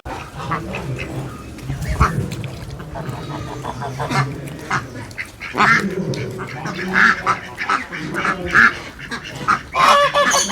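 Geese honk loudly and repeatedly in noisy bursts, close by on a mixed farm, with a voice talking among the calls.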